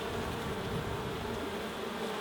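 Honey bees buzz over a hive frame in a beekeeping colony, making a steady, dense drone close to the listener. The hum stays even, with no voices over it.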